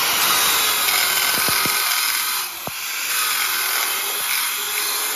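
A rotating wire brush on a power tool scrubs rust off metal with a steady high, gritty whir, close and continuous, briefly easing near the middle with a few sharp ticks, no voices.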